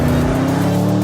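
Porsche Panamera Turbo S on a racetrack, a loud, brief burst of engine drone with a steady tonal hum and tire noise as it brakes into a bend, with no voices.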